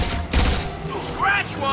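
Gunfire in the video game Mass Effect 2: a short burst of rapid shots, loud and close, in under two seconds of action.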